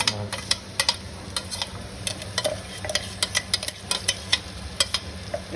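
Ginger garlic paste and masala frying with onion in hot oil for biryani, a steady sizzle punctuated by repeated clinks and scrapes of a spoon stirring the pan, close and fairly loud.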